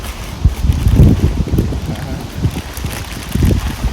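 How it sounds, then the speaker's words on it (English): Gusty wind buffets the microphone outdoors in a garden during spring bulb planting, with low, uneven rumbling bursts that rise and fall, with no clear voices. "Very windy."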